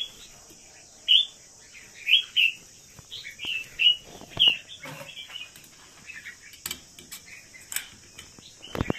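Caged songbirds chirping in short, bright bursts, several sharp calls spaced irregularly against a quiet background with a steady high insect-like hiss.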